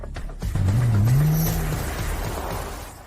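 A car accelerates hard with an engine whine rising in pitch, a loud close roar that swells and then holds steady, with no talk.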